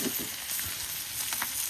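Fresh fish frying in a pan, a steady close sizzle with light crackles and faint spatters throughout.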